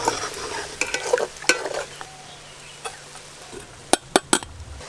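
Onions fry quietly in oil for chicken biryani, a soft sizzle broken by sharp clinks and scrapes of a metal spoon stirring the pan.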